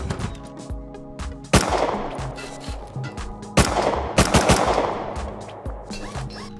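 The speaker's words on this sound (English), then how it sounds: "Look, they're already shooting my stuff." Gunfire in the survival game Rust as raiders shoot at a base: loud bursts of automatic fire and sharp single shots in irregular volleys, some close and some echoing, over a low background drone.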